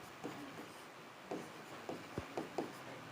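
Marker or chalk strokes on a classroom board during a physics lesson, a few short scratchy taps and squeaks spaced irregularly, faint and close, with no talking.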